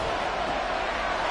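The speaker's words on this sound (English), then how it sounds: "this crowd doing their best to make a lot of racket" Stadium crowd noise in Madden 24 football, a steady, loud roar of many voices blended into a continuous wash of sound with no distinct individual calls.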